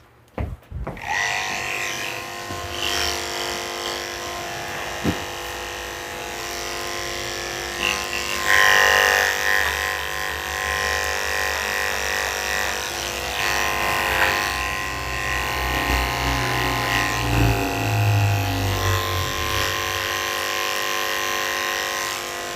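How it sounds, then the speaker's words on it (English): Electric clippers buzz steadily while shaving hair from inside a Havanese dog's ear, a continuous close motor hum whose pitch shifts slightly as the blades move through the fur, with no talking. "I'm just going to shave it out."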